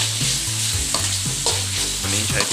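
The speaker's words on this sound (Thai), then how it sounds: "ผัดทีนี้ก็ผัดให้เข้ากันนะครับ ผัดไปเรื่อยนะครับ" Pork with garlic and fresh chilies stir-fried in a wok gives a continuous loud sizzle and tossing, heard beneath prominent rhythmic background music with a steady bass line.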